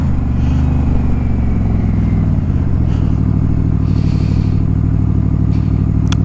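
A Yamaha Royal Star XVZ1300 cruiser, converted to a single carburetor, runs with a loud, close, throbbing engine note whose pitch sinks as revs drop, with light mechanical clatter over the steady rumble.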